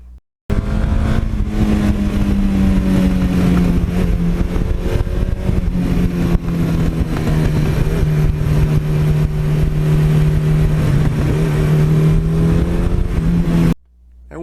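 A 1982 Suzuki GS1100E air-cooled motorcycle being ridden on bumpy back roads, its engine humming loud and steady at cruising speed with slight pitch changes, starting abruptly and cutting off near the end.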